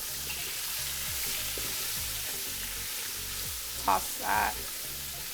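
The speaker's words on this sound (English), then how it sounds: "While you're sauteing your vegetables, you'll start smelling the aroma of these delicious herbs here." Vegetables and a herb bouquet sauté in a pot after lamb has been browned and lifted out, giving a steady, close sizzle throughout with a couple of brief knocks near the end and a short spoken remark over it.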